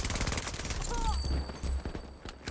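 Gunfire rattles out in a shooter video game as rapid bursts of sharp shots crack in quick succession, loud and close, mixed with game effects and a brief tonal chirp.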